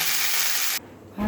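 Vegetables frying in oil in a pan for khichuri give a loud, dense sizzle that drops sharply to a faint hiss partway through, then swells again as cooking noise returns.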